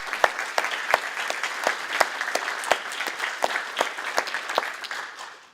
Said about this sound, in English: Please, if you don't mind, give them a round of applause.